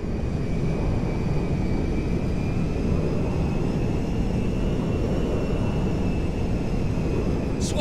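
Cargo jet engine in GTA V roaring as a steady, loud, continuous broadband drone with a faint high whine running throughout.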